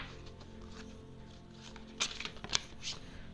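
Oracle cards shuffled by hand, quiet at first, then a few crisp riffling snaps and slaps near the end, close and soft, with no talk.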